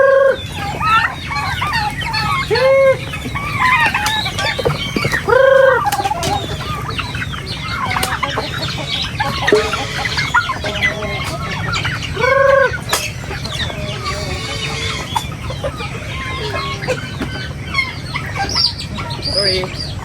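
Turkeys on a farm are fed corn, water spinach and rice bran, with repeated clucking fowl calls close by over a steady murmur of activity.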